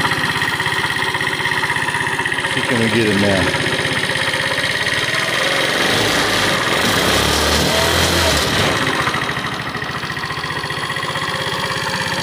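An abandoned scooter engine idles steadily as it warms up, a continuous mid-pitched running sound throughout with a brief rise around the middle; someone talks briefly over it.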